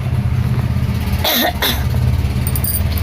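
Traffic from a road right beside a small room passes as a steady near rumble of vehicles, with a brief louder vehicle sweep in the middle and a short burst later.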